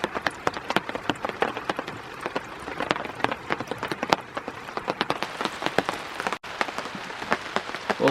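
Steady rain patters on a surface at a lakeside bush camp, dense irregular drops close by with no talking, continuous throughout.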